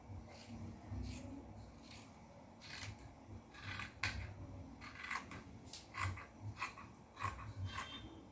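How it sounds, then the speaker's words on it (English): Scissors snipping through gown fabric while sewing a pencil gown with side ruffles, a series of short, crisp cuts spaced irregularly over a quiet room background. "So I'll go ahead and cut this off."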